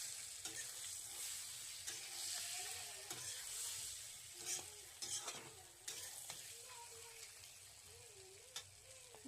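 Green chilies fry gently over a low flame, a steady quiet sizzle broken by the occasional scrape and clack of a spatula stirring the pan.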